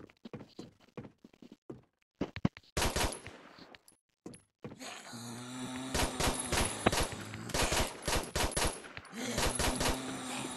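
Gunfire rings out in the pixel shooter Zombie Apocalypse: Pixel Combat, starting with scattered single shots and then turning into dense rapid bursts, loud and up close, with brief gaps between volleys.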